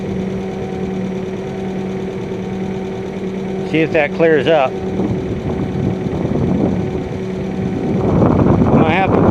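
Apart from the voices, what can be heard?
2001 Kia Sportage engine idling after cold start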